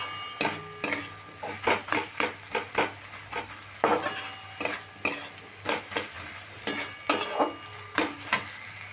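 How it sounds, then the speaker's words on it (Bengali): A spoon scrapes and taps through boiled potatoes in a pan, a string of sharp, close clinks and scrapes in an irregular rhythm, with no talking. "আমি আলু একটু নেড়ে চেড়ে নিচ্ছি।"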